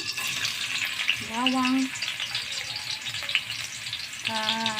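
Garlic frying in hot cooking oil in a pan, with a steady sizzle close by and brief stirring, while tonal music runs underneath.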